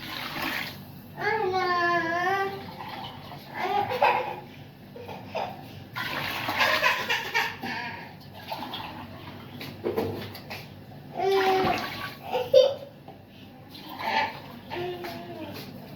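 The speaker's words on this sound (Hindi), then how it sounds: "अब हम इसमें ये 5 टिफिन डालेंगे पानी के।" Water is poured and splashes into a pot of browned chicken for pulao, gushing in bursts while a child and an adult talk over it.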